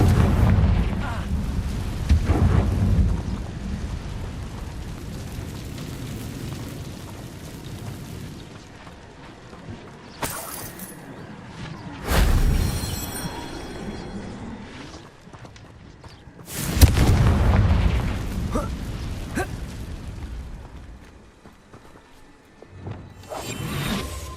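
Confringo fire spell blasts in the Hogwarts Legacy video game, loud booming explosions with whooshing bursts that recur several times over a dense, rumbling game soundscape with brief voice callouts.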